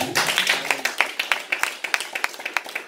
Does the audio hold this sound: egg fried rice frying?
no